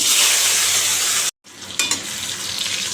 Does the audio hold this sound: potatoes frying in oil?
yes